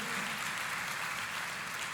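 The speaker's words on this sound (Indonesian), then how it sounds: "Tepuk tangannya pula yang paling meriah buat Tuhan kita" A church congregation claps together in a hall, a faint, distant, even patter of many hands sustained throughout.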